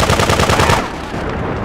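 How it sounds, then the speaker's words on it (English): Shotgun fire in the PC game GTA 2: a rapid, loud burst of blasts for under a second, then a quieter rumbling tail. "Shotgun."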